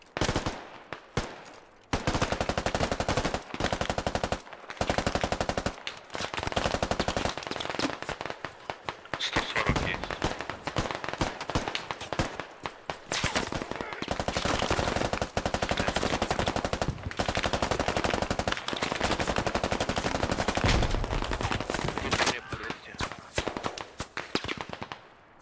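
Sustained machine gun and rifle fire in the Squad military video game, dense bursts running almost without pause, loud and close, with brief gaps between volleys.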